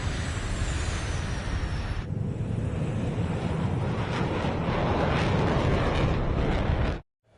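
Aircraft engines roaring as a flight forms up in a video game, a loud continuous windy jet rush that swells slightly before cutting out abruptly at the end.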